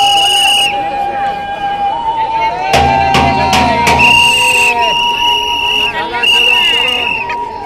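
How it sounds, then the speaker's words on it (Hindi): Shrill whistling at a crowded Durga Puja pandal, sustained high tones recurring over the crowd's babble and a burst of clattering noise midway. "एक बार सीटी मारी है"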